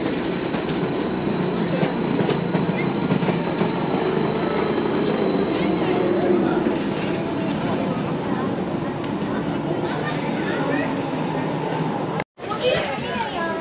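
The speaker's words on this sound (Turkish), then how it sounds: "Herhalde bu trenle ineceğiz aşağıya." A Rigi mountain railway train on the Swiss mountain, with steady rumbling and faint wheel squeal across the platform, mixed with children playing and voices chattering nearby throughout.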